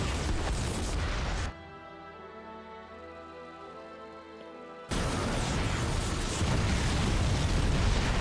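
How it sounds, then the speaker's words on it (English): Siege tanks shelling in a StarCraft 2 match: dense, continuous rumbling explosions and bursts, loud and close, broken by a brief lull of droning game sound before the barrage resumes. "And the siege tanks are shelling."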